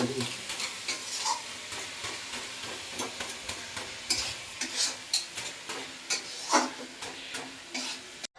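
Urad dal lentil fritters fry in hot oil with a steady hiss, broken by repeated clinks and scrapes of a spoon stirring and turning them, close by and fairly quiet.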